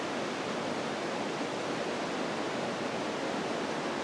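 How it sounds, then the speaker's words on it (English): A little creek near Potato River Falls trickles and rushes in a steady, even wash of water noise, close and constant for the whole stretch with no voices. "Got this little creek that runs through here."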